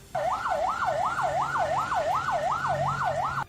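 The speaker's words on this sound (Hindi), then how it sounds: "सायरन बजाती हुई एक एम्बुलेंस सड़क किनारे तब तक खड़ी दिखी" An ambulance siren on a roadside, waiting as a minister's motorcade passes, wails in a steady rising-and-falling cycle about every half second, loud and continuous with faint road rumble beneath.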